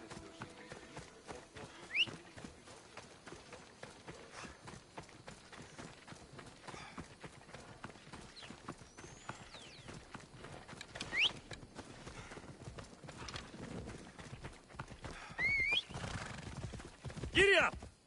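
Horse hoofbeats clip-clop steadily through a game world in Assassin's Creed Odyssey, with occasional neighs and whinnies rising over the galloping, plus background ambience and faint voices.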